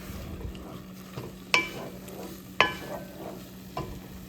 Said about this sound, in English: And then you just want to saute this down and let it simmer until most of the soy milk mixture is absorbed.